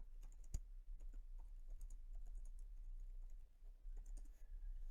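Quiet, rapid typing on a computer keyboard as a query is entered, a steady patter of soft key clicks with a few sharper taps, close and alone without talk.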